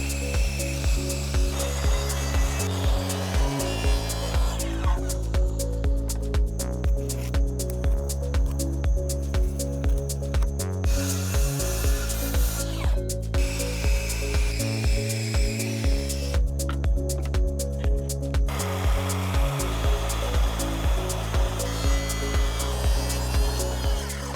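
A power tool cuts wooden joists for a ramp, a close, loud, continuous whine with steady rapid pulsing, its pitch shifting as it bites through the boards; no talking.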